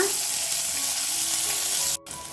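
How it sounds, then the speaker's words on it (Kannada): Onions frying and sizzling in a pan on a stovetop, a steady dense hiss running close and continuous, then cut off abruptly near the end before a quieter return. "ಈರುಳ್ಳಿನೂ ಕೆಂಪದಾಗಿ ಆಗೋ ತನಕ ಹುಡ್ಕೊಳ್ಳೋಣ"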